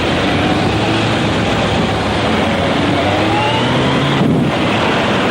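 A car weaves through traffic behind an emergency vehicle with a flashing orange beacon, giving a loud, steady road and engine roar with wind buffeting and a brief whoosh of a passing vehicle near the end.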